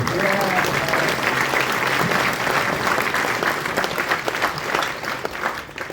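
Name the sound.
audience applause for Greenie guitar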